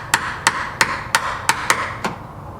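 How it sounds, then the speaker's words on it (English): Mallet blows drive a chisel into a wooden door, cutting it out for a smart lock: seven sharp, close knocks spaced evenly about a third of a second apart, with nothing between them. "So I need to get a chisel, and I'm gonna chisel out just the bottom part it's looking like"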